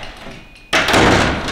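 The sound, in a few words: doors being shut and locked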